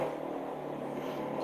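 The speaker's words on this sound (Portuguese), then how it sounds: "Só passar uma moto aqui, meu Deus do céu." A motorcycle passes outside as a steady, moderately loud engine drone that holds through the short stretch, with no talk over it.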